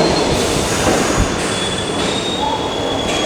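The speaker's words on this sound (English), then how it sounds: "we're gonna ride this train, the 6 train, to its last stop" A New York City 6 subway train runs along the track near the old City Hall loop, its wheels squealing steadily over a loud, continuous rumble with no voices.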